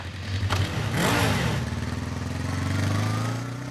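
A motorcycle engine revs up close, a sharp throttle blip followed by a steady, rumbling run that holds loud to the end.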